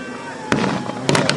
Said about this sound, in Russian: Уже снова начинается стрельба.